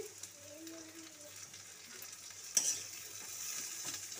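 Tomatoes added to onions frying in a pan for a Bengali fish curry, giving a soft steady sizzle with a sharp utensil clink partway through and light stirring, quiet and close, no talking.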